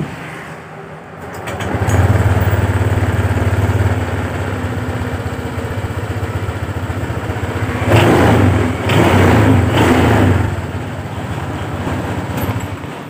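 A Honda Vario 125 FI scooter that is hard to start when cold fires up after a short quiet moment, then runs with a loud, close buzzing idle. The engine briefly revs higher partway through, and no one speaks.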